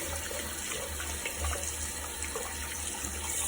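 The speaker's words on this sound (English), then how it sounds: "you're going to want to wash your hands thoroughly" Water from a tap runs steadily into a sink during handwashing with antibacterial soap, a continuous soft splashing hiss with slight gurgles, fairly quiet and with no talk over it.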